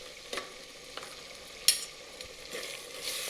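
Ground spices and asafoetida sautéing in a pan for palak pulao, with soft sizzling and a few stirring scrapes and taps, moderately close and without voices.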